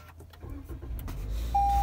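A 2019 Toyota Corolla Hatchback SE starts up, its engine turning over and settling into a steady low idle, preceded by faint interior clicks and a short electronic tone near the end.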